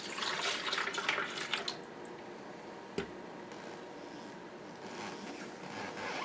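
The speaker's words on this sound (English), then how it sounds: "Let's pour that in." Milk pours into a Philips soup maker with a splashy, hissing rush for about two seconds, followed by a single clunk and a soft lingering trickle.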